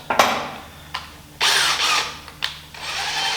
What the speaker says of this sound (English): I'm gonna drill the hole for the brackets.